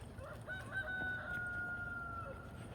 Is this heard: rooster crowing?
yes